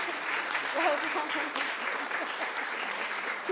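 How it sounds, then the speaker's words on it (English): An audience at a talk for carers applauds the speakers: steady, fairly close clapping from a modest group, with a brief murmur of voices partly beneath it. "So I think it deserves a round of applause."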